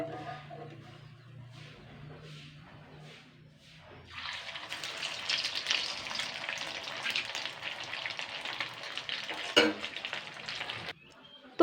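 Bread-filled pitha fry in hot oil, giving a steady, close sizzle that starts abruptly after a few quiet seconds and holds at an even level to the end.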